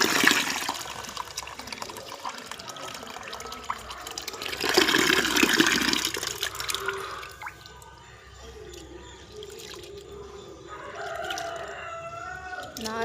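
Rice being washed by hand in water, with sloshing, dripping and swirling splashes that swell loudly in the middle, then quieter trickles and drips, with a voice speaking at times.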